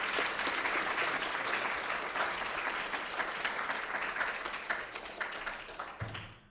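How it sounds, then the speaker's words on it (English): A conference audience gives a warm round of applause welcoming a speaker, steady full clapping throughout that tapers into a few separate claps at the end. "I would like for you all to give Ryan Wing a warm round of applause."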